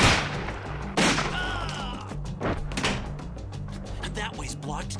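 Gunfire cracks out in an animated adventure episode, with a couple of sharp shots over busy action noise and voices talking throughout.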